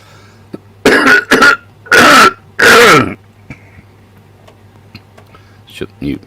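Several harsh, loud coughs and throat clears come close to a computer microphone in a bursty cluster, with a ticking sound and faint background noise between them.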